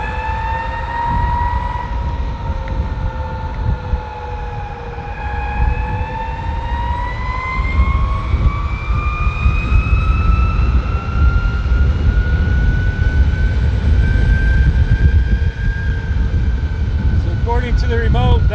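An electric skateboard running 45T Onsra pulleys accelerates with a loud, steadily rising motor whine over heavy wind and road rumble, then tapers off near the end.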